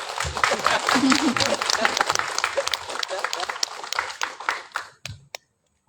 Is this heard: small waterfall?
no